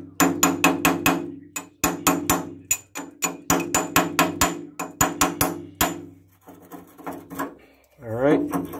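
Repeated hammer blows on a fitting of a rusted water heater, a fast run of sharp metallic strikes in bursts, then scraping and a brief voice near the end.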